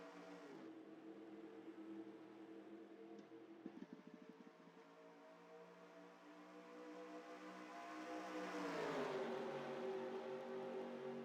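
Stock cars racing at Talladega in an Android racing video game: a steady engine drone with layered harmonic whine, a brief clatter near the start, then a rising pitch sweep as cars pass close and loud.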